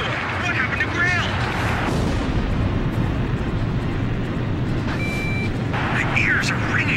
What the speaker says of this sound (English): My ears are ringing from all the gunfire.